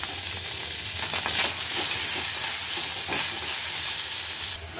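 Chicken pieces hit a hot pan and sizzle loudly, a dense, continuous crackling hiss close up with faint stirring scrapes and no voices.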